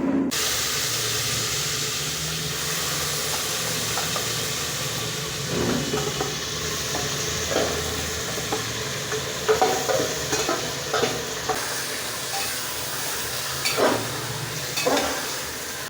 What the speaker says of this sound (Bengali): এবার দেখুন বড় এলাচ আর তেজপাতা ফোড়নে দেব